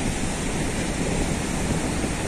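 Sea waves wash continuously onto a beach near the village of Ril, a steady broadband roar of surf with wind, close and loud with no voices.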